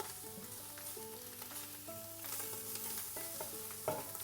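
Onion and tomato fry in a little oil for rougail, giving a soft, steady sizzle. Faint tonal sounds in the background and a brief louder clatter near the end.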